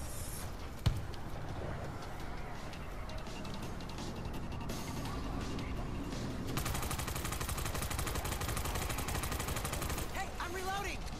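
Continuous rattling gunfire in a zombie shooter set in a mall, a steady dense fusillade of rapid shots that grows harsher and louder partway through, with a sharp single crack early on.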